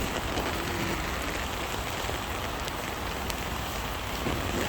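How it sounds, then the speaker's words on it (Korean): Steady, dense rain falling during a typhoon, a constant close hiss of drops on surfaces with no break and no voices. "내일까지 비 온대"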